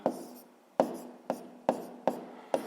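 Pen or pencil writing by hand on paper while working a grade 6 math exercise, a run of six scratchy strokes with sharp onsets that fade, close and quiet, no talk.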